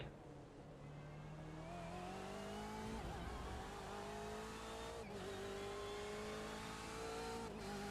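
Race car in the iRacing video game at Homestead: a continuous, loud engine whine whose pitch climbs steadily, broken by quick gear shifts and brief braking dips before it climbs again.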